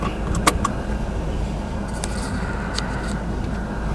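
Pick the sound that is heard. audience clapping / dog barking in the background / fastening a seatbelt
fastening a seatbelt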